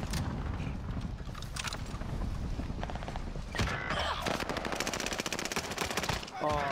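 Sustained automatic gunfire and rapid shots in a chaotic multiplayer shooter match, loud and dense throughout with mechanical clatter and brief bursts, no talking over it.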